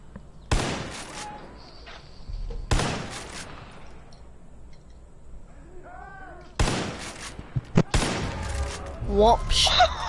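Gunfire in a comedic game rings out in several loud, sharp bursts, each with a long ringing decay. Quieter gaps between the bursts hold scattered chirps and clatter.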